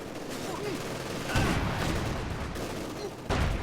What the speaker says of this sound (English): We are firing on the tank.